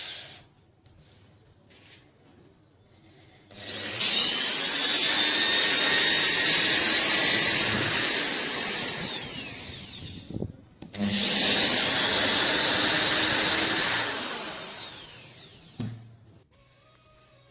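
A power drill boring a hole for an IV set regulator on a homemade carbide lamp, two loud sustained whining bursts of several seconds each, separated by a short pause, with no talk.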